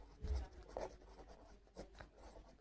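A pen scratching across paper during a Class 10 maths lesson, giving a few short close strokes with brief pauses between them, quiet and alone with no speech.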